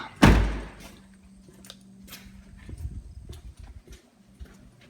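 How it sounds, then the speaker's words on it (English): A house door is opened with a loud thunk of the latch and frame, followed by softer clunks, rattles and a low hum as it swings open, close by with no talking. "Door open."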